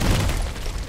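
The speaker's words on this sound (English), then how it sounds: "Always the mortar." A mortar explosion in the Contract Wars video game, a single loud, close boom that fills under a second and fades slowly.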